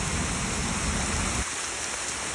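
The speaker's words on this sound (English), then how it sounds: "I'm hiking through this rainstorm" Heavy rain pours in a dense, steady hiss during a rainstorm on a walk across Singapore. The water roar is loud and close at first and then drops suddenly to a thinner patter partway through. Nobody speaks.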